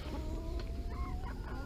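Backyard hens cluck steadily at close range while waiting to be fed fermented chicken feed, with several short calls overlapping and no talk.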